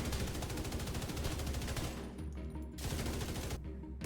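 Light machine gun fire from The Division 2 rattles in rapid continuous bursts, with a brief pause and then another sustained burst, loud and close, with no voices.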